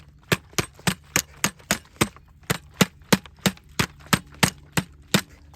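A water bottle strikes a Primary Arms SLx MD-21 rifle scope again and again, about fifteen sharp, evenly spaced hard impacts, loud and close, with no talk.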